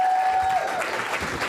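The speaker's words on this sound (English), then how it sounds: "another round of applause for the mayor of Boston" Audience applause at an NAACP young professionals leadership event, a dense, even wash of clapping that swells in after a brief steady tone and carries on for the rest of the moment.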